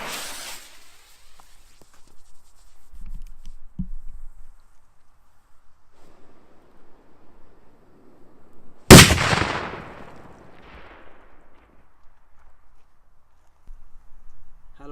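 A single loud Cipolla firecracker blast bursts sharply partway through, followed by a brief decaying rumble and echo, set against quiet outdoor background with faint earlier thuds.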